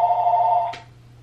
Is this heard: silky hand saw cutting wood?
no